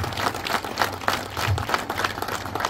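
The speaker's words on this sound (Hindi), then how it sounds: "जोरदार ताली बजाएंगे कि" Hall full of students claps together in loose, pulsing bursts, moderately loud and continuous throughout.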